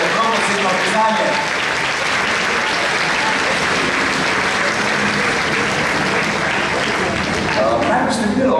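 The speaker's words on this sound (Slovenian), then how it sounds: "si dajte en velik aplavz za vas trud" Loud, dense audience applause at a reception honoring young local talents, a sustained roar of many hands clapping that fills the whole stretch, with faint voices mixed underneath.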